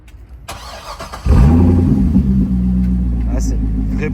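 Corvette C6 V8 cranks and fires after brief quiet handling noises, then settles into a loud, deep, steady idle rumble close by.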